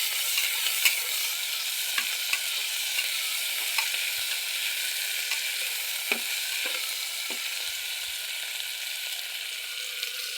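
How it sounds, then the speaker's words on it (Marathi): Potato and tomato pieces being stirred as they fry in a pan: a steady bright hiss of sizzling with soft scattered spatula taps, close and alone without talk. "त्याला हलवून घेतोय आपण"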